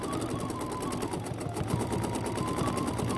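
A Bernina sewing machine with a stitch regulator stitches steadily. Its needle clatters in a fast, even, continuous mechanical whir, close and loud throughout.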